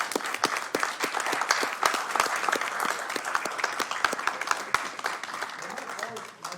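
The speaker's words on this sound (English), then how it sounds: "please give them a big round of applause" Applause fills a city council chamber as commissioners stand, with steady mid-volume clapping from a modest crowd and a few sharp individual claps, tapering slightly toward the end.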